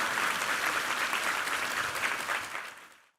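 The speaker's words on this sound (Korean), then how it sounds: "우리 하나님께 감사와 영광의 박수 올려드리겠습니다" A church congregation applauds during a Sunday service, a full, even burst of clapping that fades out at the very end.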